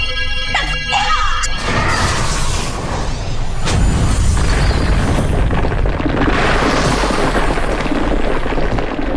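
A loud explosion bursts and roars, then rumbles on through a sustained wash of crashing debris and noise, from a magical battle in a fantasy setting where Chinese characters act as spells; a brief voice may sound under the din.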